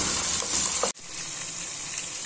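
Half a kilo of chicken sizzles in a pan with browned garlic while cooking a karahi, a steady hiss of frying with a brief stir or clatter partway through.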